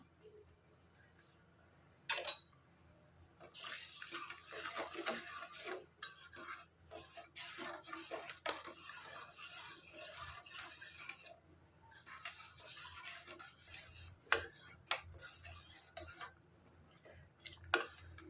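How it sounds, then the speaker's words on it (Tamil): Water with grated coconut and a little salt boils in a pot on the stove while kozhukattai dough is made, a close, steady bubbling hiss with rasping bursts and scattered clicks that rises after a quiet start, with no talk. "பாருங்கள் தண்ணி நல்லா கொதித்து வருது"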